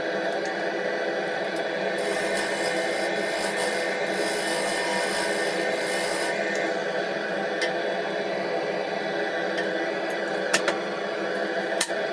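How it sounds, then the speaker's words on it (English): Continuous, even sanding of an offset-turned wooden Christmas decoration spinning on a lathe, a steady abrasive hiss with no pauses. "You guessed it, more sanding."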